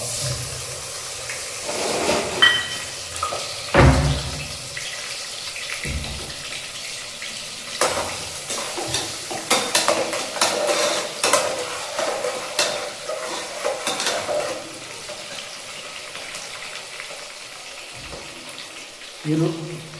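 A cup of onions fries in a pan for white chicken palav, with a steady sizzle under repeated scraping and clattering stirs, close up throughout.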